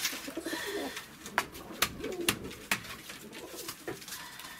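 Pigeons given as a gift coo in cold winter weather, several soft repeated calls close by with sharp flutters or knocks between them, no talking.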